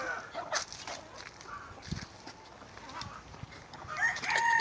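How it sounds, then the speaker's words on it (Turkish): Chickens cluck and chatter softly in the background of a garden, with a rooster's call rising near the end; the barnyard sounds are fairly faint. "Şurada da durun tavuk, tavukları göstereceğim."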